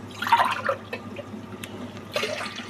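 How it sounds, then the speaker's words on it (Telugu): Water pours from a glass onto basmati rice for chicken biryani, a short splashing trickle close by that comes in two bursts with a pause between. "మూడు గ్లాసులు నీళ్లు పోస్తున్నాను"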